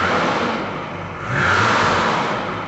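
A 1985 BMW 635 CSi engine idles, then revs up as the throttle is pressed, its loud mid-pitched roar swelling and holding before easing back slightly, close and without speech.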